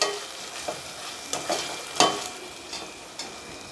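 Prawns sizzle in oil in a pan, a steady hiss broken by several sharp stirring scrapes and clinks, close by and without speech.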